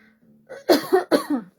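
Two sharp coughs in quick succession, close and fairly loud, preceded by a soft throaty sound.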